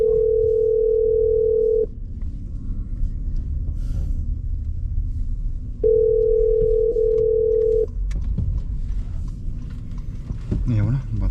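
A phone ringback tone sounds in two steady pulses while a call is placed, heard over a low rumble with people talking nearby.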